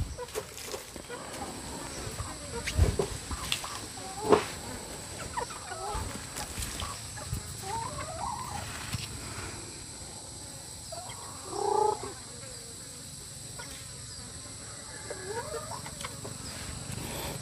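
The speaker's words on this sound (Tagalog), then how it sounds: "May nagpugad na manok doon mga kabayan." Chickens cluck softly and intermittently in a forest, faint and fairly distant over low background noise, with brief bursts of louder clucking and occasional human voices.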